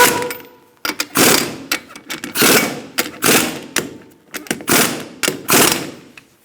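A ratchet snugs the wheel lug nuts on a 2002-2006 Honda CR-V, with loud, close bursts of rapid clicking separated by short pauses, repeated about a dozen times.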